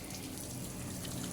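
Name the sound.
water poured to bathe sacrificial animal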